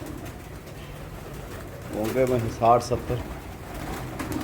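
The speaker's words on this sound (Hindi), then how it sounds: "आउट क्लास कबूतर है माशाल्लाह" Pigeons coo in low, throaty bursts in the middle, with someone speaking briefly alongside them.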